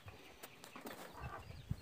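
Young chicks in a brooder peep and cluck softly at close range, giving scattered chirps and a louder call near the end over faint background noise.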